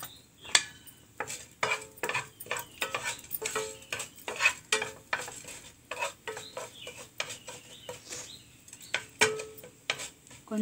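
A spoon clinks and scrapes repeatedly in a small pan where urad dal fries in a little oil, with rhythmic stirring taps over a faint, quiet sizzle and no talking.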